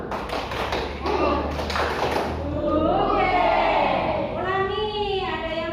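Children do the 'tepuk semangat' rhythmic clapping during a Quran reading lesson, a burst of patterned claps over the first seconds, then a voice speaks alone.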